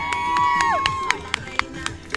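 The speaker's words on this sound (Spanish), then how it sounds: "¡Fuerte el aplauso!" A crowd cheers and whoops at a lively show, followed by several sharp, scattered claps, fairly close and moderately loud, with no clear talk.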